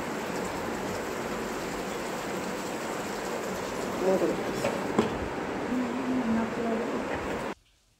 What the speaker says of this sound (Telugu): మంచిగా చికెన్ ఉడుకుతుంది.